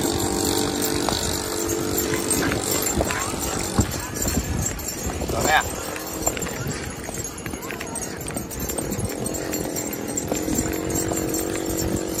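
Horse hooves clop on a beach at Alibag in an irregular rhythm, with people talking and other noise from the busy shore around them.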